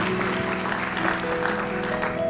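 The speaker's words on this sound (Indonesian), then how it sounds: "Tepuk tangan yang paling meriah buat Tuhan." A church congregation applauds during a sermon, a dense, loud wash of clapping that holds steady for a couple of seconds while sustained music tones play underneath.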